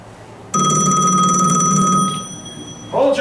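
Phone ringing with a steady, bright electronic bell tone that holds for a couple of seconds and then fades, close and loud, followed by a brief different sound at the end.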